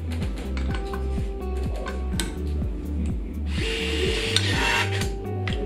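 A battery nutrunner tightens a big bolt to 500 Nm, giving a steady, close mechanical whir with a rapid, regular ratcheting pulse throughout, and no talking.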